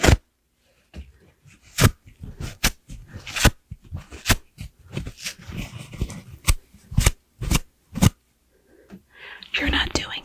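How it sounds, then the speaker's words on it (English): Paper is ripped up in a string of sharp, crisp tearing bursts, some quick and some drawn out, with whispered talk and soft handling noises between the tears. "I want to rip up a piece of paper and see if it sounds like something."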